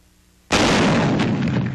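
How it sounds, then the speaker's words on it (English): A T-21 75mm recoilless rifle fires once during combat testing for Pacific warfare, a sudden loud blast after quiet that rolls into a long, slowly fading roar. "Combat testing the T-21, a 75mm recoilless rifle."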